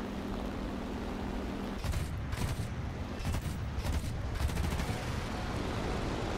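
A La-7B-20 fighter plane's cannons in War Thunder fire in short bursts of rapid thumping shots over the steady drone of the aircraft engine, with a few pauses between bursts and loud, close reports.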